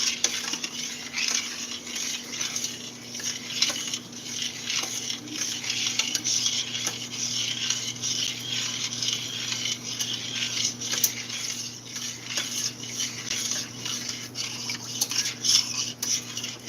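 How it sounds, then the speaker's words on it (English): Cheese sauce for bacon and cheddar au gratin potatoes being stirred in a pan, with a steady scraping of utensil against metal and a soft constant sizzle beneath, fairly close and even throughout. "Keep stirring."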